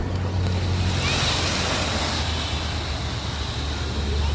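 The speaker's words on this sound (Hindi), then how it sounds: "ऐसे पत्थर में दीवार में टकराती लहरें, ऐसी लहरें टकराती हैं कि बहुत डर लगता है।" Sea waves crash against stone walls in a steady, loud, close roar that continues without a break, with wind buffeting the microphone.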